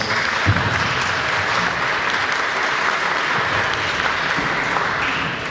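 Sustained applause from a comic convention Q&A audience, a broad, even clatter of many hands clapping without pause for over five seconds, easing just at the end.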